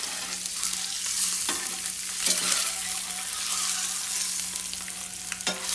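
Eggs roast in hot oil with turmeric for an egg dum biryani, giving a steady sizzle with occasional stirring scrapes and clicks, close and fairly loud throughout.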